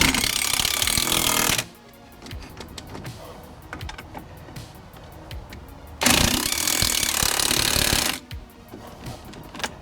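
An impact driver hammers lug nuts tight on the wheel of a 1968 Baja Bug fitted with 4-lug to 5-lug adapters, two loud close bursts of rapid rattling separated by quieter clinking handling.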